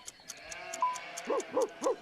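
Sheep bleating as a sound effect in a children's game, three short wavering bleats in quick succession near the end, close and clear over a faint ticking background.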